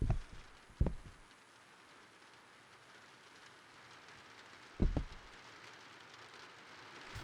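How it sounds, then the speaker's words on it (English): Steady rain hisses throughout inside the video game In the Facade We Trust, a soft, even wash of patter with two brief louder thumps near the start and middle. "Some rain going on here."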